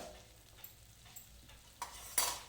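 Ingredients for Radhanagari doodh amti sautéed and stirred in a pan. A faint, low sizzle runs underneath, with a few soft utensil scrapes and a louder scrape near the end.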